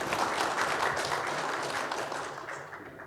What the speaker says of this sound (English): A big round of applause for Devidas sir.